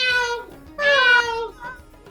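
A human voice imitating a cat's meow, made with the tongue pressed to the roof of the mouth, gives two nasal, tonal meows followed by a softer trailing one, close and clear.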